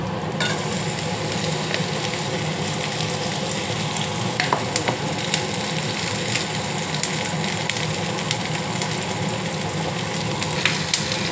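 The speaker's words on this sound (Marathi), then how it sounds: "मी त्याच्यात आता टिंडली टाकतो।" Chopped tindora (ivy gourd) tipped into hot oil with green chillies and curry leaves sizzles loudly and steadily, with occasional scrapes and clinks of a spoon stirring the pan, no voices.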